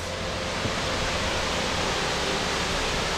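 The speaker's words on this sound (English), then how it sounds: "We've hit Ramona Falls." Ramona Falls, a waterfall along the Sandy River on the Timberline Trail around Mt Hood, roars as a steady, dense broadband rush that fills the whole clip at close range, with no voices.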